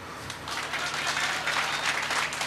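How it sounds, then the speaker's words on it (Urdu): Audience applause at a Lucknow mushaira, a dense, steady clapping from a seated crowd that fills the whole moment at an even, lively level with no voice over it. "تالی بنتی تھی."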